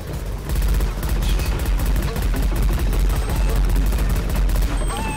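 Loud, sustained automatic gunfire in Left 4 Dead 2 with a slow-zombie mod, rapid shots rattling almost without pause from start to finish, with scattered game effects underneath.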